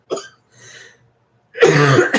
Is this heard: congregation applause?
no